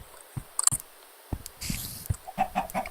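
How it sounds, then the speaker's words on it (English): Minecraft chicken clucking in short, separate bursts among game clicks and footsteps on a skyblock island, moderately close with no talk. "Tell me in the comments why there's a chicken here."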